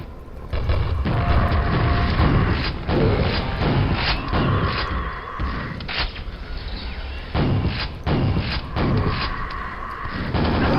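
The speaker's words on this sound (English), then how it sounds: "I totally forgot I had a grenade launcher. That hurt." Repeated heavy booms and thuds from a grenade launcher in the video game Quake, loud and close, with bursts of mechanical clatter and creaks between blasts over a continuous game soundscape.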